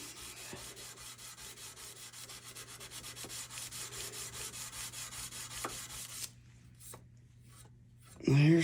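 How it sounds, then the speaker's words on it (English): Rhythmic, rapid sanding strokes on a metal chainsaw bar scrape steadily up close, then stop abruptly, leaving near silence before a loud clunk at the end. "we'll sand and get all the marks out of it."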